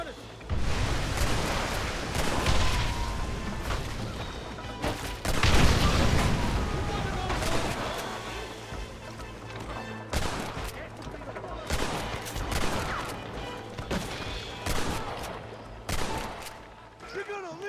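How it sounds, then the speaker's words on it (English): Heavy gunfire from the Red Dead Redemption video game during a cliffside ambush: sustained volleys of rifle and pistol shots with booming reports, loud and near, with voices shouting over the clamor at times. "They're shooting down on us!"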